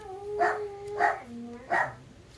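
Dog barking indoors in a home, three separate sharp barks spaced about half a second apart, fairly close and moderately loud, with quieter bark-like yips between them.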